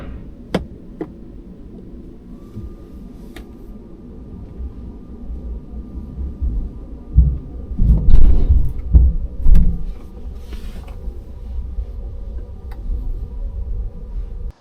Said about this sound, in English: you hear a lot of whizzing and whining going on of screwdrivers